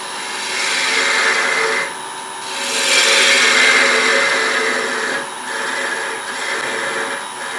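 Wood lathe shaving a small spin top down to a thin spindle, a steady close hiss and scrape of the cutting tool that swells and eases in passes with brief lighter gaps.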